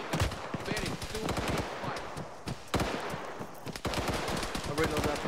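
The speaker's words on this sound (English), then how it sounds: "There's an enemy. Machine gunner." Bursts of machine gun fire in the ARMA 3 military game, sharp repeated shots in clusters with short pauses, fairly quiet overall, with a voice talking faintly beneath.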